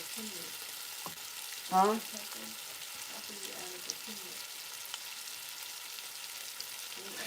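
Onions sautéing in grapeseed oil for a Philadelphia cheesesteak, a steady low sizzle throughout with a brief louder clatter near the start and a short spoken exclamation.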